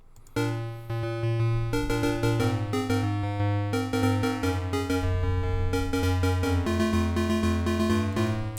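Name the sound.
piano song played in note block editor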